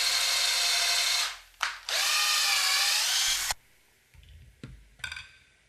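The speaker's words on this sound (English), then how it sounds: "Round and bevel the end holes with the electric reamer." An electric reamer rounds and bevels the cut end of a plastic plumbing pipe, a loud, steady high-pitched motor whine running for about three seconds with a brief dip, then stopping, followed by faint handling clicks.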